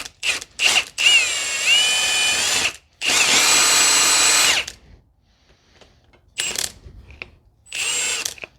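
Power tool driving a 15 mm bolt on the rear shock of a 2014 Chevrolet Sonic 1.8, several loud, close whirring bursts of a few seconds each, separated by short pauses and quieter gaps.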